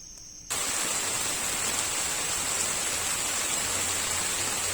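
Steady broadband hiss of rain falling in a North Carolina forest, loud and continuous after a brief quieter start, with no voices.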